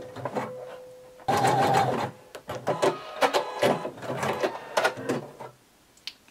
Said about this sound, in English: using a wide zigzag stitch, I'm going to sew these together.